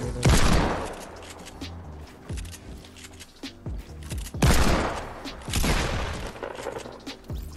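Loud, booming shotgun blasts from the Blower Pump in a video game, two heavy bursts a few seconds apart with smaller impacts and clatter between them, no talking.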